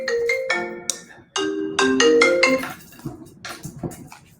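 A phone rings with an incoming call, a bright repeating electronic melody in short bursts, close and fairly loud, fading into quieter room sound toward the end.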